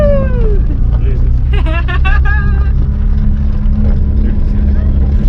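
An Austin Metro car drives with a loud, steady engine drone throughout, while people talk over it inside the car.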